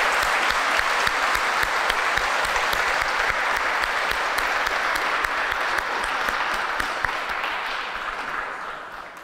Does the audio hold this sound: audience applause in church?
yes